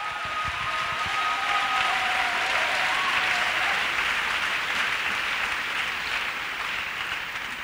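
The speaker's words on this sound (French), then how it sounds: "Clap for Jesus Christ." A church congregation applauding, a dense, loud, sustained wash of clapping from many hands that fills the whole span without pause.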